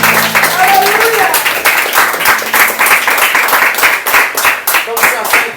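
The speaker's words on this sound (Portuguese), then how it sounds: "Em nome de Jesus, aplauda Ele." Church congregation clapping in worship, loud rhythmic hand claps in a steady beat close by, mixed with voices and some music-like tones.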